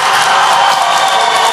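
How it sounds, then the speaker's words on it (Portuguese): At a RollerSoccer World Cup club match in Brazil, a football crowd protests a foul call with a loud, dense, continuous roar that fills the whole moment. "a torcida protesta"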